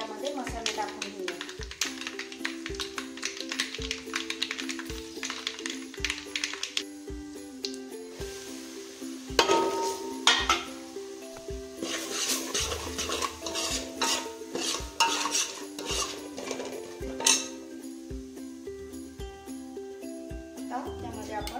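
Spoon stirring and scraping in a pan during the curry-leaf tempering for mutton dalcha, giving steady clinks and rhythmic utensil ticks under prominent background music, with a few louder metallic knocks midway.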